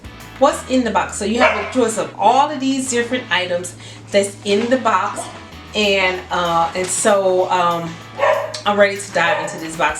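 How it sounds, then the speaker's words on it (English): A pet dog barks and yips intermittently in the background of an indoor subscription-box unboxing, faint and largely buried under continuous close speech from someone talking throughout. "As you can hear my dog in the background barking."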